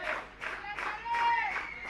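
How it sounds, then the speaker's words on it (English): Brief applause from teammates at a cricket match as a batsman reaches fifty, a few scattered outdoor claps in a short burst, fairly faint and distant. "Acknowledges the applause from his teammates"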